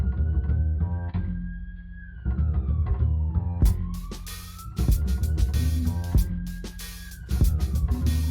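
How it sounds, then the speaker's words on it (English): Police sirens wailing, rising and falling in slow sweeps, with rhythmic music and thumping beats playing loudly over them. "Oh, the sirens are coming."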